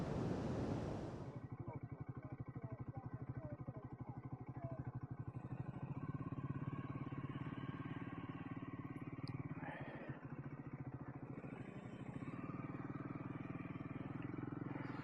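Triumph Speed 400 motorcycles pull away on a Welsh valley road near a reservoir, a steady engine drone with heavy wind buffeting over the microphone that holds fairly constant and loud throughout, with no talk.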